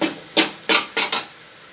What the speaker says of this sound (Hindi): इस तरह जिग जैग करके आप चम्मच बीच में यूज करें ताकि नीचे से भी ना लगे